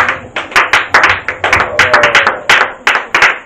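A church congregation claps in praise of Jesus, sharp hand claps landing in a quick, fairly steady rhythm, loud and close, with no speech over them.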